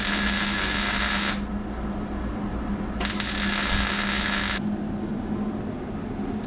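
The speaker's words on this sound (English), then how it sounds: "So now we can tack weld a little spot right here." MIG tack welding on a Nissan 240SX A-pillar against the firewall, two loud crackling buzzes of about a second or so each, separated by a quiet gap with a low hum beneath.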